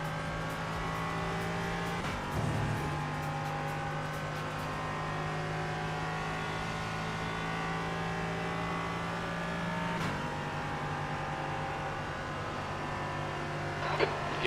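Race car engines whine at steady high revs in a racing video game, the tone dipping briefly at gear shifts and braking points, a continuous moderately loud drone with no talking over it.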